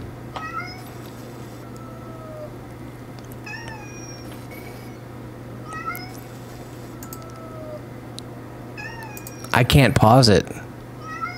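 A kitten in the horror video game Amanda the Adventurer gives repeated thin meows at intervals over a low hum, then a person speaks briefly near the end.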